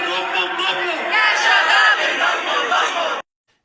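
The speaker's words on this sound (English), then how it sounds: "This was a nice little crowd gathering in Turkey, showing their support for Hamas." A loud, dense crowd at a rally in Turkey in support of Hamas, chanting and shouting together steadily for about three seconds before cutting off abruptly.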